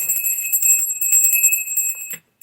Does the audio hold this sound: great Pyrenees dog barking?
no